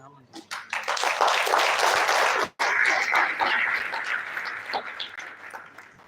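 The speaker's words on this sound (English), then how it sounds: "I would like you to close the round of applause." Applause from an audience at a monetary policy event swells quickly into loud, dense clapping, breaks off for an instant, then carries on and slowly thins out toward the end, with voices mixed in.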